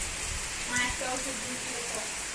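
Steady, heavy rain hisses across surfaces in a dense continuous wash, with a voice speaking briefly over it.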